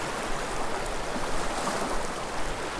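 A small, narrowing creek flows steadily, a constant broadband rush and babble of water with no breaks, close and fairly loud, no voices.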